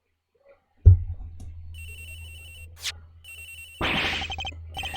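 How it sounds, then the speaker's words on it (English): In the Ace Attorney Investigations video game, a phone starts ringing after a sudden low thud, and a repeating electronic ringtone plays over a steady hum. "Agent Hicks's phone! It's ringing from somewhere, sir."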